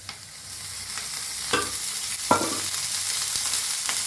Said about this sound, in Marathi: हलवून भाजून घेऊया कांदा